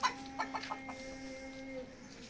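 Chickens on a farm clucking close by, a quick run of short clucks followed by a drawn-out, softer cluck against a quiet background.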